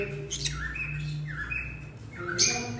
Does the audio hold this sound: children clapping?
no